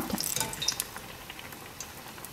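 Aloo bonda deep frying in hot oil gives a faint, steady crackling sizzle with scattered pops, slightly busier at the start, and no voices.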